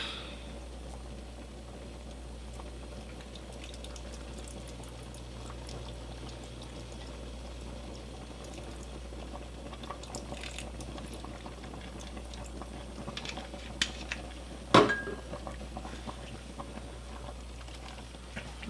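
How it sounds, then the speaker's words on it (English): Lemon and vanilla extract poured into an apple and strawberry cobbler filling and stirred, giving a soft, steady liquid trickle with faint kitchen clinks and one sharp knock near the end. "Now we're going to add a little lemon extract. Then we're gonna add some vanilla extract."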